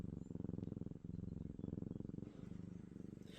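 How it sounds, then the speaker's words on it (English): Close, soft purring with a steady rhythmic rumble of many quick pulses, low and quiet, with no talking. "He's purring."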